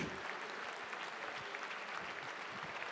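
A conference audience applauds the French economy, industry and digital minister at a closing plenary session, with dense, continuous clapping throughout.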